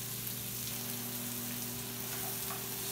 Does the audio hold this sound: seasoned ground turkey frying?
yes